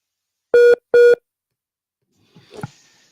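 Two identical long telephone line tones sound in succession on a WhatsApp call-in, each clear and isolated, followed after a pause by a brief faint crackle and click from the line.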